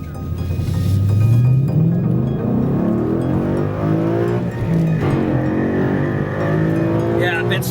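A Ford Mustang GT S197 with a Coyote V8 and bolt-on upgrades pulls hard with traction control off, its engine note rising loud and steady while people talk inside the car.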